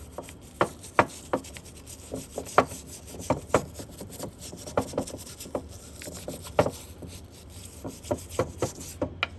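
A nylon brush scrubbing a part clean during a 2010 Volkswagen Passat vacuum pump rebuild, heard as a run of short, close rubbing strokes in an uneven rhythm, alone without talk.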